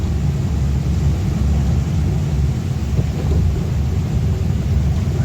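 Heavy rain pours steadily in Kerala, a dense, unbroken roar of falling water that holds at an even, loud level throughout, with no voices.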